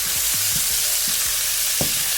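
Sliced orange, red and green peppers frying in a pan, heard as a loud, steady sizzle with occasional stirring scrapes and pops close by.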